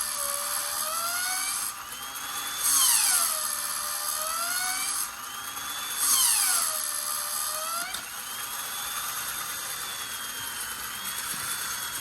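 A battery-operated Mr Patrol toy robot runs with its piston moving up and down, giving a steady high mechanical whine that rises and falls in repeating sweeps, with a louder whirring surge every few seconds.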